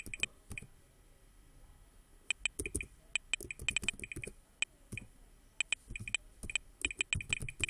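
Keys on a computer keyboard clicking in quick bursts with short pauses, close and fairly quiet, while working on a landing page design in a UI tutorial; nobody speaks.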